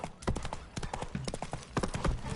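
Horse hooves in The Witcher 3: Wild Hunt clip-clop in a quick, uneven rhythm close by, loud sharp knocks on a hard surface, with a brief snort in between.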